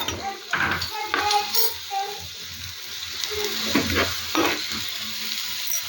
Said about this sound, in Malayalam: എണ്ണ ഏകദേശം ചൂടായി. അതിലേക്ക് നമ്മൾ അരിഞ്ഞു വെച്ച സവാള ഇടുന്നു.